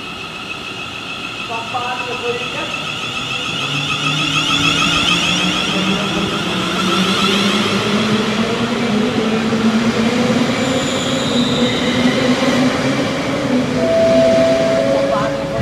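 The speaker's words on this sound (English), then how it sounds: "It's the Bombardier Voyager." A Virgin Super Voyager, a Bombardier Voyager diesel train, rolls past with a growing engine drone, rising tones and rail noise that stay loud and close for most of the passage, while people talk quietly underneath.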